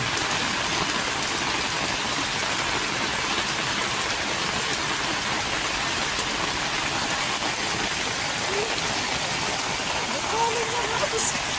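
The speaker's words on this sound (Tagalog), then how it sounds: "Sobrang lakas ng ulan." Heavy typhoon rain from Typhoon Carina pours down in Zabarte, a dense, loud, unbroken hiss of water drumming on surfaces nearby that holds steady throughout.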